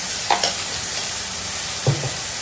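Bay leaves and dried red chillies frying in hot oil, giving a steady close sizzle with a couple of brief stirring scrapes.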